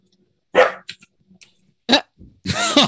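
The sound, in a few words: person imitating a dog bark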